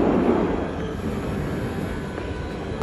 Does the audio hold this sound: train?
yes